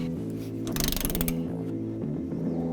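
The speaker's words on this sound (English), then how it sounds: "I'm gonna go ahead and set my torque wrench to 60 foot-pounds for the front 2 core support mounts" A ratchet clicks under a steady mechanical hum as it works on the core support body mount bolts of a 2003–2007 Ford F-250/350 Super Duty crew cab, with a brief burst of rapid clicking in the middle, close and moderately loud.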